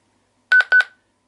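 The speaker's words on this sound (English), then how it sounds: "2 beeps let you know it's locked" A QYT 8900R mobile radio's keypad lock sounds two short, bright electronic beeps in quick succession, loud and clear against silence.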